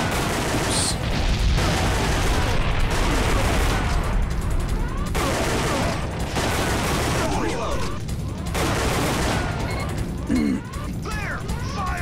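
Loud, continuous gunfire and explosive bursts from the arcade shooter Time Crisis running on a PlayStation emulator, dense and unbroken for the whole stretch, with scattered game effects layered over the shooting.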